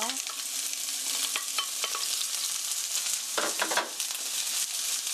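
Sliced onion, garlic and ginger frying in oil at the start of a curry, a bright, steady sizzle nearby with occasional stirring scrapes and a brief louder burst of crackling.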